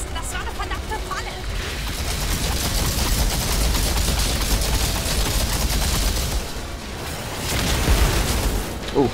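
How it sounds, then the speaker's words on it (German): Gunfire and explosions rattle through a combat scene in the video game Outriders Worldslayer, with bursts of shots and booming blasts at close range, running steadily for several seconds. A voice speaks over parts of it. "Outrider, wir hören Schüsse."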